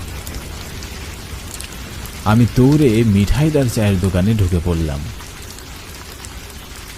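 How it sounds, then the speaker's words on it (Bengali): Steady rain hisses throughout, even and continuous, while a narrator speaks over the middle stretch in a cartoon horror story. "একথা ভাবতে ভাবতেই বৃষ্টি শুরু হয়ে গেল"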